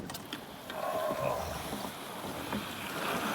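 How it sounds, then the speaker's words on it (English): A canoe glides on a swampy forest waterway, with soft water lapping and faint paddle splashes against a quiet, breezy outdoor backdrop. "I'm gonna hop in this canoe right here, put on my life jacket."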